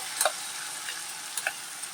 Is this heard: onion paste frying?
yes